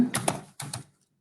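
A computer keyboard clicks in two quick clusters of keystrokes while code is typed, close and crisp, followed by silence.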